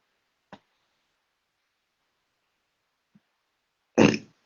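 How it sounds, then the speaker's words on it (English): A single loud human burp comes near the end after a stretch of near silence, preceded by a couple of faint clicks. "Excuse me for burping."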